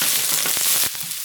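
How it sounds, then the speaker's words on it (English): Chopped white onions frying in olive oil in a pan, a steady close sizzle with a few stirring scrapes and no talking. "We're going to add 1/2 cup of chopped up white onions."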